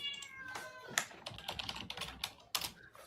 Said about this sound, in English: That is a noisy cat over there you got.